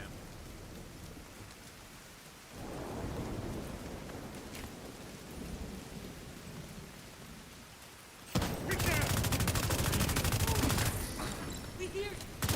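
Steady rain hisses throughout a scene in the game SCUM, growing heavier and louder near the end, with a dense patter of drops.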